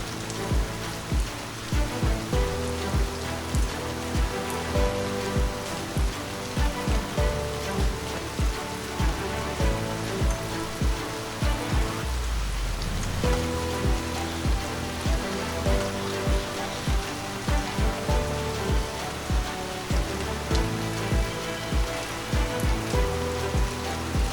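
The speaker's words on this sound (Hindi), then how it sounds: "और इतना बारिश हो रही है फिर भी हम लोग नहीं भीग पा रहे क्योंकि छाते की वजह से।" Heavy rain drums steadily on a giant umbrella overhead, a dense continuous patter with irregular louder drips and thuds throughout, close and fairly loud with no talking.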